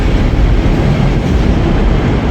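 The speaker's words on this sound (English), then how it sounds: "I like the new Class 197s at Transport for Wales" Inside a Transport for Wales Class 197 train running from Manchester Piccadilly to Chester, a loud steady rumble and rushing noise fills the carriage without pause and no voices.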